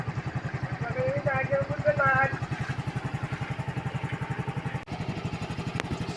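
A flood-soaked Yamaha scooter engine, kickstarted and now running, idles with a steady, rapid low putter throughout, while a voice talks over the first couple of seconds.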